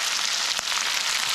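Fish fry in oil over a campfire at a forest campsite, giving a steady, close, dense sizzle and crackle with no talking.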